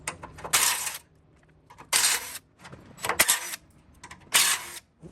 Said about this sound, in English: I'm going to disconnect this top plate. It's held on to each side with a couple 12mm bolts.